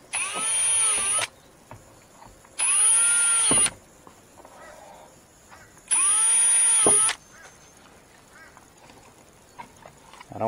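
Three bursts of a power drill whirring at high speed into a Fiat Ducato motorhome front door for a speaker install, each about a second long with short pauses, loud and close, followed by quieter clattering.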